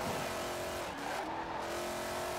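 A '68 Firebird races through corners in Forza Horizon 4, its engine holding a steady loud drone with a brief dip in pitch, alone with no voices.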